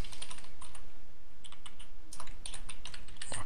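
PHP code typed on a computer keyboard in steady bursts of close, crisp key clicks with brief pauses, no voices.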